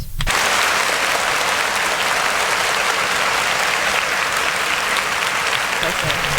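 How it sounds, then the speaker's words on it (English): An audience gives a guest a loud, sustained round of applause, dense clapping that starts abruptly and continues evenly for several seconds. "let's give her really quick a round of applause"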